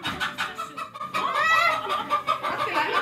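Hens clucking in a farmyard, a busy run of short, overlapping clucks and squawks with rising calls, fairly close and steady throughout with no talk.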